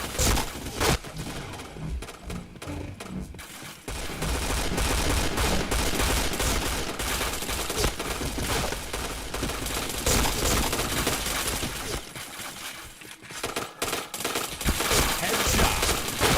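Rapid bursts of P90 submachine gun fire from a shooting video game, loud and close, crackling almost continuously for most of the stretch with a few brief lulls.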